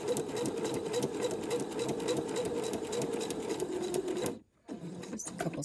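A home sewing machine stitches pieced quilt block fabric, a close, steady whirring run of rapid needle strokes that halts briefly near the end, then starts up again for a short burst.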